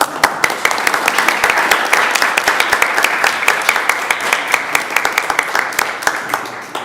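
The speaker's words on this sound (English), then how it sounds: "Let's give her a round of applause" A loud, close round of applause at a school district board of education meeting, many hands clapping in a dense, even burst that holds steady for several seconds before tapering slightly at the end.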